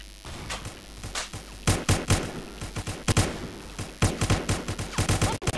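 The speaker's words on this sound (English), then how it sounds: "What is that, a rocket launcher?" Rocket launcher and rifle fire in a blocky Roblox airsoft shooter: loud bursts of rapid shots and heavy blasts that come in repeated clusters one after another, close and dense, with no voices.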